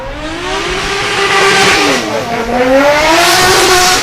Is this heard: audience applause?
no